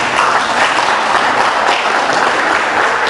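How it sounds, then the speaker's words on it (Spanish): Congregation applauding a boy at a Bible study: a dense, steady burst of clapping throughout, fairly loud and close, with no talk over it. "Un aplauso para este chiquillo."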